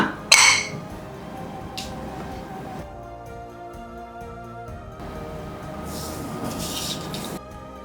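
A cooker lid lifts off after vegetable biryani has cooked, giving one sharp, loud metallic clank near the start, then faint clinks of metal over a quiet kitchen.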